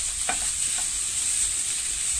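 Ground meat sizzles steadily in a frying pan just after going in, with a couple of brief stirring scrapes early on and no talking.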